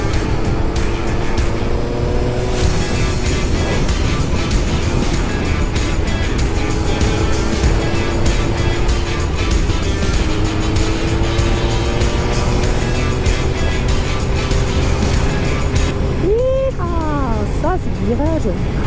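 Suzuki GSX-R motorcycle cruising along a road, a steady engine drone with gear-change pitch shifts, near and continuous, wind rush over the top and a voice talking at times.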